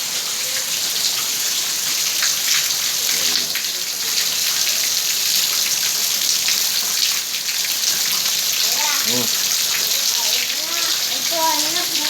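Steady rain falls outdoors, a dense even hiss of drops on surfaces throughout, with a few faint voices talking underneath near the end.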